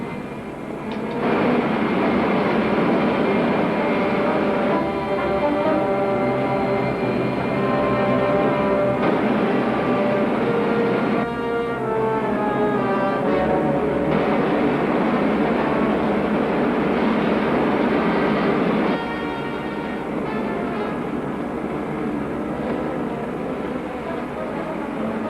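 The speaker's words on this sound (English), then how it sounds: "Fire main jet." A roaring rocket ship main jet from an old sci-fi film serial fires continuously for about twenty-five seconds, loud and steady, with shifting whining tones running through the rumble and no talk over it.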